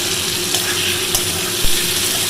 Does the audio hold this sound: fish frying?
yes